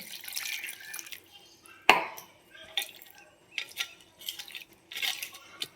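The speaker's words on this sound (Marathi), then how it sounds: "पाणी ओतून स्वच्छ धुवून घेते" Chopped potatoes are rinsed with poured water in a home kitchen, giving splashing and sloshing bursts with clattering vessel knocks and one sharp thud, all close.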